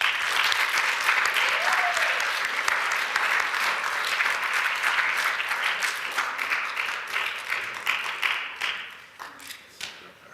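Audience applause welcoming a South Dakota Highway Patrol captain at a 2014 event: steady, dense clapping from a sizable crowd fills the room, then thins out and fades toward the end.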